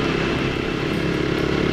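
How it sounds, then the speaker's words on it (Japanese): Honda CT125 Hunter Cub motorcycle on a touring ride, a dense, loud, continuous engine drone with steady wind noise, close up and without pause. "ハンターカブで来ました。"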